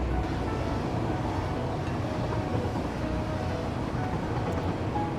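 A train rolls along steadily in the factory-building game Satisfactory, a constant low rumble and hum with no clear breaks, moderately loud and unchanging.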